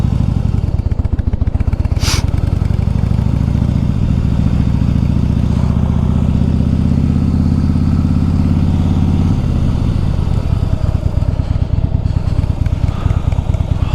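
Harley-Davidson Softail Slim riding on a cold day, its engine a loud, steady low rumble that holds even for several seconds, then eases off. Wind noise rushes over it throughout.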